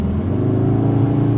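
A 2021 CUPRA León Sportstourer with the 2.0 TSI 310 CV engine idles in Sport mode, giving a steady, loud low rumble with a dense harmonic drone that holds even throughout, close by and alone.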